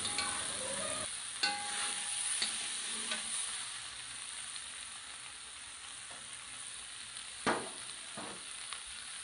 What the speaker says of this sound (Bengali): তাই আমি থোড়টাকে প্রথমে তেলের সাথে ভেজে নেব